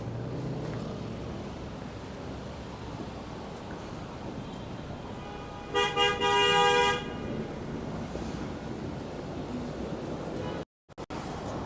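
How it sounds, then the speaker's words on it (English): Night traffic on a Manhattan street: a steady wash of passing cars, punctuated midway by a loud car horn blaring in a few short blasts and one longer one, fairly close, with no talking. "Ambulance noise, honking."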